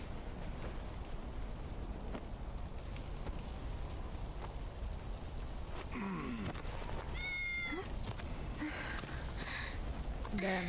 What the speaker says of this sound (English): That cat huge too. It's a big cat.